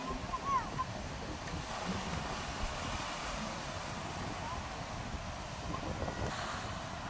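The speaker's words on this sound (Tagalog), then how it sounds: "Oh, nasalpa talaga ang alon." Surf crashes on a trash-strewn shore after a typhoon, a steady broadband roar of waves mixed with wind buffeting the microphone, continuous and fairly loud throughout.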